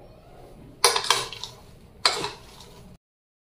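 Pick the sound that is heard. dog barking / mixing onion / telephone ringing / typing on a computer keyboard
mixing onion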